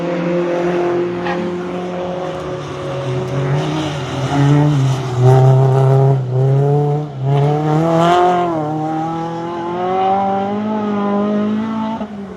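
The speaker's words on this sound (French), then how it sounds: "T'as vu, il a mis un autre échappement. Ça fait moins de bruit." A race car fitted with a different exhaust climbs a hill-climb course, its engine loud and close, revving up through gears with rising and falling pitch in a sustained drone.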